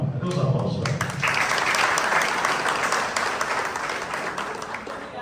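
Audience applause at a Brazilian government event in Rondônia about Ministry of Environment and Climate Change programs, rising after a brief spoken line and continuing as steady, dense clapping that slowly thins toward the end.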